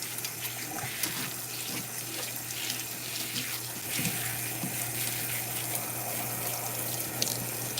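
A tap runs steadily, water splashing and hissing into a basin or tub nearby, with small clatters and bumps in the background.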